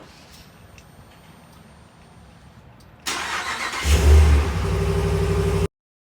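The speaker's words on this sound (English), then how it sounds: "Here's a cold start with the stock muffler system" A pickup truck with its stock muffler and an aFe Momentum GT cold air intake cranks over after a few quiet seconds, catches with a loud rising rev, then settles into a steady, close idle with no one talking.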